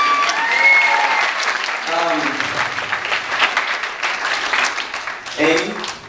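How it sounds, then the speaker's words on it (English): Wedding reception guests give a round of applause for the bridal party, a sustained mid-sized burst of clapping with cheers and a voice speaking over it near the start and end. "Please, please join me in giving a round of applause for this gorgeous bridal party we have up here."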